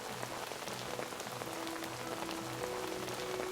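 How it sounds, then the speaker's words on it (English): Steady rain pattering on a plastic awning outside a dusty window in a dimly lit lower district, a continuous dense hiss of drops with no voices. "hear the sound of rain hitting the plastic awning"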